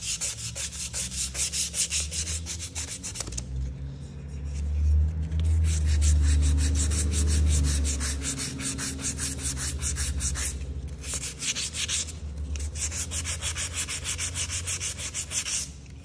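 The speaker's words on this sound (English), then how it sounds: "a rougher sandpaper would take this back a lot faster" Sandpaper is rubbed by hand over a furniture piece in quick, raspy back-and-forth strokes, close and clear, broken by a few short pauses, with no voices.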